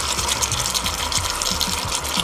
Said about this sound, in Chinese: 这一步应该是要用这个汁儿啊慢慢浇这个海参啊